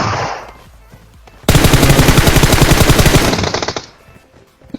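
Sustained automatic M4 rifle fire in the PUBG battle-royale game, a loud, rapid burst of closely spaced shots lasting about two seconds, with quieter ambient game sound before and after.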